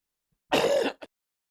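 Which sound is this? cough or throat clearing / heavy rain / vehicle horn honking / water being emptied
cough or throat clearing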